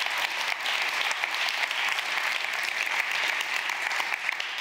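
An audience claps steadily at a talk event on Africa's future, a dense, even wash of applause lasting a few seconds with no voices over it.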